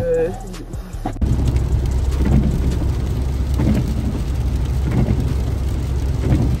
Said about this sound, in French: on vient d'arriver, il pleut sur place